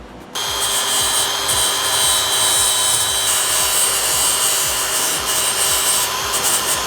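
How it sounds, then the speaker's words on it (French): A power grinder works over the welded joints of a steel mirror frame, a loud, continuous close-up grinding whine with a rough rasping texture. "pour que ce soit plus joli, on va procéder au meulage"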